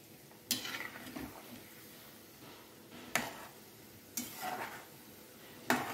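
Drumstick pickle seasoning being stirred in a pan, with a few sharp utensil scrapes and knocks against the metal over a faint background hiss, spaced irregularly and fairly close.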